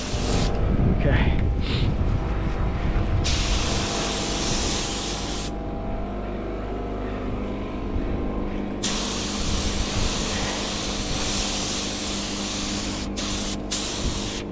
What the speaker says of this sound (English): compressor's not keeping up. We need to get a bigger compressor for this paint job.